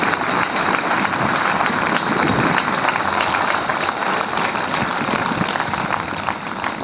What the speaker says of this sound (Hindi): तो एक बार जोरदार तालियां हमारे CLI साहब के लिए, महकार सिंह के लिए।